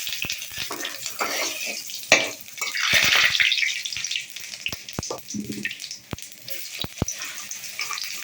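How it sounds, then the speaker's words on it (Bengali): Spices tempered in hot oil crackle and sizzle in a pan, with sharp pops, a louder surge of frying partway through, and scattered clicks of stirring. "সাদা দিয়ে ফোড়ন দিলাম"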